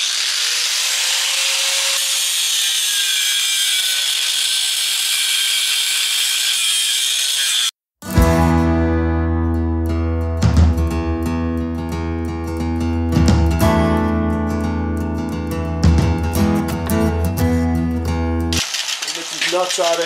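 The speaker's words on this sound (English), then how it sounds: "I'm going to cut these welds off." Welds being cut off a metal chariot frame built for a Snowdog B7ZE, a harsh, steady abrasive grinding hiss for about eight seconds that cuts off abruptly, followed by a loud, droning, harmonic motor-like tone.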